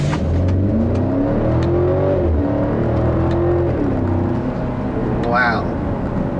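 A 2011 BMW X6 xDrive50i accelerating hard under paddle-shifter control, its loud engine note climbing and dropping at each gear change, heard close from inside the cabin.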